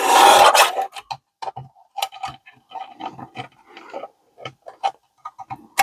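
A paper trimmer slicing through paper scraps, giving a short rasping burst followed by a run of small irregular clicks, ticks and scrapes close by.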